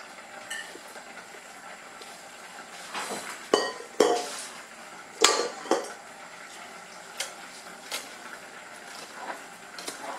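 A spatula or whisk folds meringue into tiramisu cream in a bowl, giving a run of scattered clinks and scrapes against the bowl, several sharper knocks in the middle, against a quiet kitchen background.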